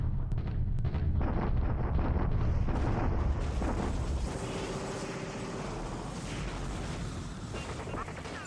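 A Japanese artillery bombardment in a World War II Pacific strategy video game, dense rumbling booms and rapid thudding blasts for the first four seconds, then a quieter lingering roar.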